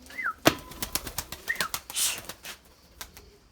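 Erzurum white pigeons take flight with brisk bursts of wing flapping and claps close by, mixed with a couple of short rising chirps over a quiet outdoor backdrop.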